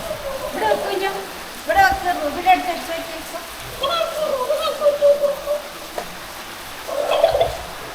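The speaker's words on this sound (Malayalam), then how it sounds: "നല്ല മഴയാട്ടോ ഇവിടെ എനിക്ക് സൗണ്ട് കേൾക്കുന്നുണ്ടാവും നല്ല മഴയാണ്" Heavy rain pours as a steady wash of noise in the background while a person talks over it throughout.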